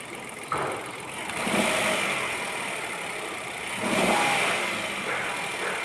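After a timing chain replacement, a Kia Picanto engine runs close by under a steady broadband roar and rises in two moderate revs, then eases back toward idle between them.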